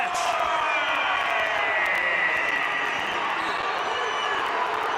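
A crowd at a Langston basketball game roaring steadily in a large gym, a sustained loud wash of cheering with a few sharp claps or bangs poking through, and an announcer's voice running over it.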